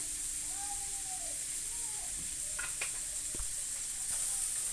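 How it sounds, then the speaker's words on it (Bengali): Oil sizzles steadily in a wok before cumin seeds go in, a constant hiss with a few clicks and taps from a utensil. A faint voice talks in the background. "কড়াইতে আমি তেল দিয়ে দিলাম"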